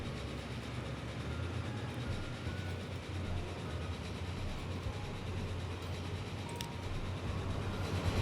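A five-car Atlantic passenger train rolling along its route in the Transport Fever 2 video game, heard as a continuous rumbling rail roar with faint clatter, steady and fairly close throughout.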